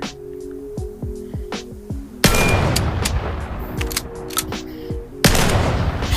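Shotgun blasts in a VR gun game, with sharp clicking and racking handling sounds before a loud boom and a dense burst of gunfire, followed by another heavy shot near the end.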